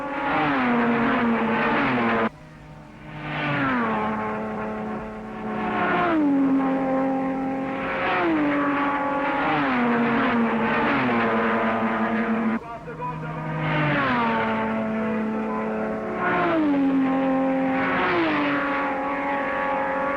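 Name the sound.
David Brown Aston Martin race car engine at Le Mans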